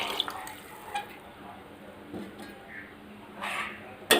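Coconut milk is poured into a pot of rice, a soft liquid trickle and splash with a few small drips and clinks, quiet and close.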